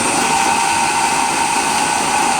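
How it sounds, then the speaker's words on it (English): A twist drill in a power drill starts a hole in sheet metal with a cloth pad beneath the tip, giving a steady, loud, high whine that holds evenly throughout. "I'm going to start the drill bit"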